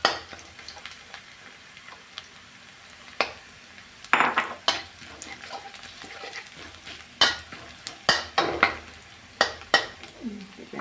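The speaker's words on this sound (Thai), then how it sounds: "ก็ต้องหาน้ำมันนะคะเจียวกระเทียมให้หอมด้วยนะคะ" Garlic frying in oil in a pan for Thai fried rice with sliced pork and egg: a steady crackling sizzle broken by sharp scrapes and clinks of a utensil stirring against the pan, with no talking.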